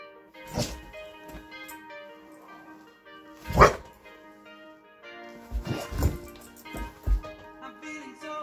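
A dog barks in scattered loud bursts: one early, a sharp strong bark near the middle, then a cluster of several closer together, with quieter yips and whimpers between, indoors and fairly near.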